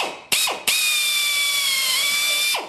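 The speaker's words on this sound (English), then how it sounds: "now I'm going to go ahead and drill the number 30 holes" An air drill bores number 30 rivet holes in an aircraft main spar and rib attach angle, with two short bursts followed by a sustained high-pitched whine that winds down, close and loud.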